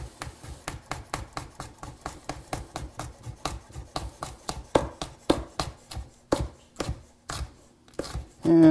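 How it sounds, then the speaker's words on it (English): A knife finely chopping a serrano pepper on a cutting board, rapid, even close taps that slow into a few heavier strokes near the end. "And just kind of chop this up fine."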